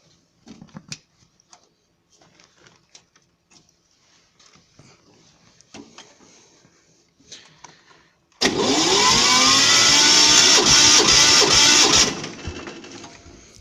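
A small walk-behind tractor engine (Agrolider) sputters briefly, then roars to life loud and steady for a few seconds before settling to a quieter idle, after faint handling noises.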